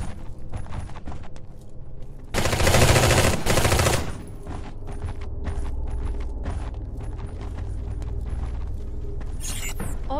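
Heavy gunfire rakes an enemy-held base in the shooter Eximius: a loud, dense burst of automatic fire peaks for about two seconds, then sustained mechanical clatter and scattered shots continue at a steady level.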